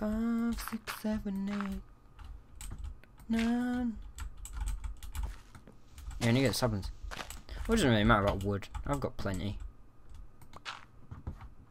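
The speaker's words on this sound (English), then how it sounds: "if you can hear the monstrous beast in the background, that's my new keyboard" Clacky typing on a Razer BlackWidow Ultimate 2013 mechanical keyboard patters steadily and close, loud sharp keystrokes running under a man's speech throughout.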